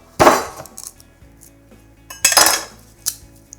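A knife chops a corn cob in half on a kitchen board, giving two sharp, loud knocks with a clink of metal, then a lighter tap at the end. No one speaks.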